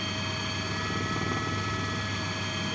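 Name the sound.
helicopter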